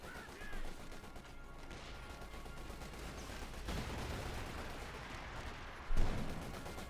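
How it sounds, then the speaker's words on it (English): Artillery fire in the wartime strategy game Company of Heroes 2, low booms and blasts landing amid a dense battle din, with one louder impact near the end. "Artillery landing very close to the commander."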